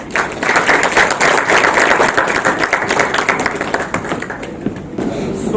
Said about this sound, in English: Please give it a big round of applause